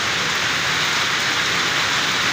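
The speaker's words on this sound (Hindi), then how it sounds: "बहुत ज़बरदस्त बारिश हो रही है आज और बहुत तेज़ हो रही है।" Heavy downpour of rain, a dense, steady hiss of drops pounding surfaces, loud and continuous throughout with no voices.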